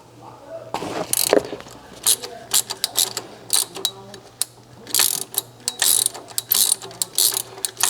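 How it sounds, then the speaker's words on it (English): A 19mm socket ratchet clicks in quick repeated bursts while loosening a coolant temperature sensor on a 2014-2019 Chevy Silverado or GMC Sierra truck, close and loud, with a person talking at the start. "Now we'll take our socket and remove the sensor itself."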